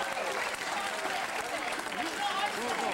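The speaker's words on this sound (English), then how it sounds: "give a nice round of applause to the owners that put money into this thing" An audience at a horse race applauds the owners with a steady, moderately loud wash of clapping and crowd noise, while a voice talks over it.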